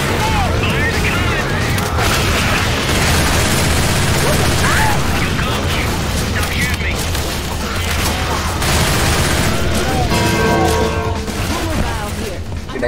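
Gunfire and explosions in the co-op video game Left 4 Dead 2, dense rapid shots and booms throughout, loud and continuous under a player's talk.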